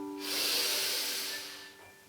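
A person draws one slow, deep breath in through the nose during a guided breathing exercise in a dance and movement session, a soft close airy rush lasting about a second and a half over faint background hum.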